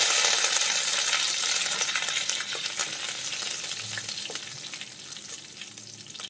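Curry leaves hit hot oil that already holds mustard seeds and dried red chillies for an ambazhanga pickle, giving a loud, bright crackling sizzle that slowly settles into a steadier fry.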